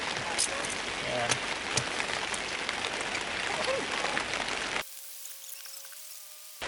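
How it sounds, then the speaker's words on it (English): Cold rain falling steadily on surfaces at a backwoods campsite near Nanaimo, BC, a dense close patter for several seconds before cutting to a quieter moment with a faint tone. "It's cold and rainy."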